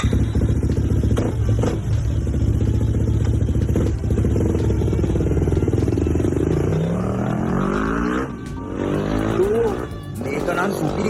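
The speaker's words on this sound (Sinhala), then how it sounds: "මගේ බයික් එකේ වටයක් පැදලා බලපන්කෝ" A motorcycle engine in the Free Fire video game revs and roars steadily throughout the ride, its pitch climbing and rising toward the end amid game effects and background music.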